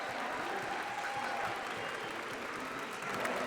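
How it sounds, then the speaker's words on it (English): Audience applause at the Pokémon World Championships, with a large arena crowd clapping steadily and loudly throughout as a dense, even wash of claps. "Let's get one more round of applause for our first Worlds finalist."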